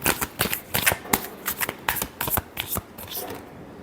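Tarot cards are shuffled up close in a quick, rhythmic run of crisp riffling flicks that taper off softly at the end.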